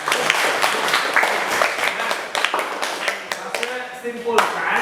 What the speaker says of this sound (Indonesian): Tepuk tangan dulu dong buat teman-teman.